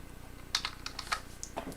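Soft, quick keystrokes on a computer keyboard, a short burst of several clicks, close and fairly quiet over faint background hum.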